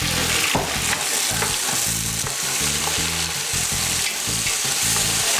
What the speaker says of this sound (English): Just warming, sizzling the garlic and chilli.